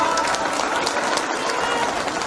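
A political rally audience in Madhya Pradesh claps for Sanjay Shukla, producing a dense, loud wash of applause and crowd noise that holds steady from start to finish.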